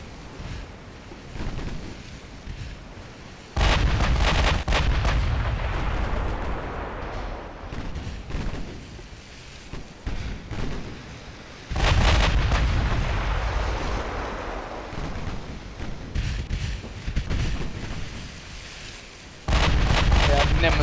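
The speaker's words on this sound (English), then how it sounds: "I'm being hit by torpedoes from the other direction" Naval battle in the Ultimate Admiral Dreadnoughts game: heavy warship guns boom in big rolling salvos, with torpedo hits adding loud blasts. The explosions arrive in three separate bursts, each decaying into rumble between them.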